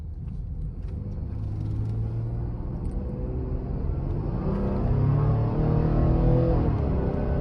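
A Ford Explorer 3.3L naturally aspirated V6 with a 10-speed automatic kicks down and accelerates, the engine drone swelling and rising in pitch from a moderate cabin hum to a louder, strained pull.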